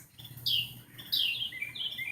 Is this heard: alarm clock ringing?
no